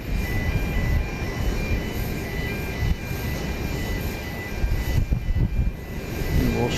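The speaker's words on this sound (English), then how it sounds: "Southwest Flight 1105 is coming in from Jacksonville in Florida" A Southwest Boeing 737 MAX 8 arriving at Dallas Love Field from Jacksonville, heard as a steady, loud broadband engine roar that stays fairly constant throughout, with faint tonal whines riding above it and occasional swells in loudness.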